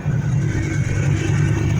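A 1988 Ford Mustang GT with a 5.0 V8 and a suspected exhaust leak idles close by, giving a steady low rumble with a faint rise in revs and no talk.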